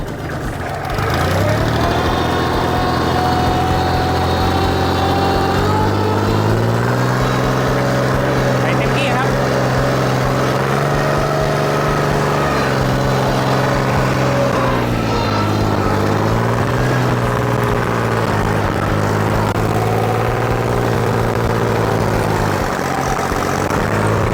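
A used Kubota L3408 tractor running in second gear high during a test, a steady loud diesel drone with slight shifts in pitch throughout, while someone talks over it.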